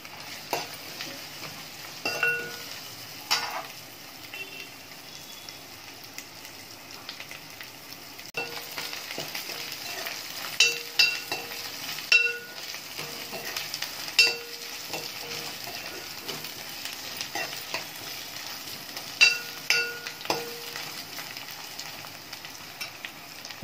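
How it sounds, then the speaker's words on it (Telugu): Fish eggs frying with masala and chili powder in a pan over medium flame, with a spoon stirring and scraping in a steady background sizzle, punctuated by occasional sharp clinks against the pan. "మీడియం ఫ్లేమ్లో పెట్టుకుని ఇది ఇలా కలుపుకుంటూ ఉండాలండి"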